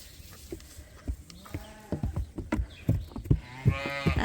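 A ewe calls for her lamb on a sheep farm, loud and close, with a series of short bleats that build into a longer, strained call at the end.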